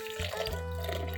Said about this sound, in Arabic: حط شويه ميه صغيرين.